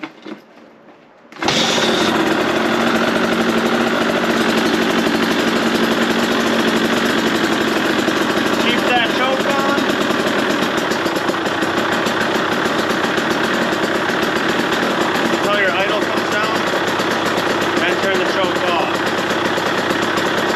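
A cold two-stroke dirt bike engine in snow starts up after a short quiet moment, then idles close and loud at a steady, buzzy, slightly uneven rhythm that runs to the end.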